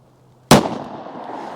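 A single .45 ACP pistol shot fired nearby, one sharp, loud crack that fades quickly into a short echo.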